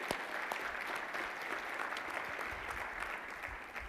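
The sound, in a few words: audience applause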